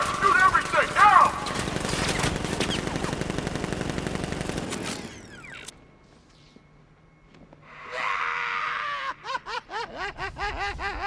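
Dense automatic gunfire in Batman Arkham Knight rattles steadily for several seconds, then fades into a quiet lull before a new burst of bright, rapid mechanical shots returns near the end.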